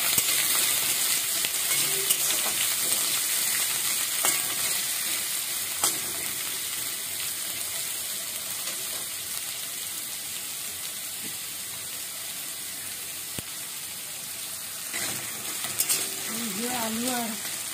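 Potato and pumpkin pieces sizzle and crackle steadily in a hot pan, a continuous close frying hiss with occasional stirring clatter and a brief murmur of voice near the end.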